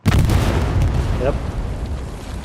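Satchel charge blowing up an American 76 tank in Hell Let Loose on the Foy map at night, a sudden loud close blast that rumbles and decays over a couple of seconds.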